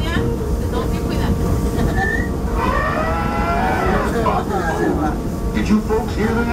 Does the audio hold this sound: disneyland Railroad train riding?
yes